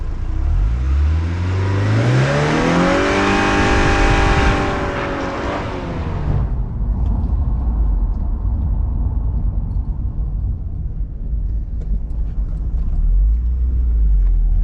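A Porsche car engine revs hard, climbing steeply in pitch for several seconds before dropping to a deep, rumbling idle, loud and close.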